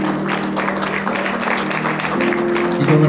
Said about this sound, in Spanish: Denle fuertes palmas al Señor.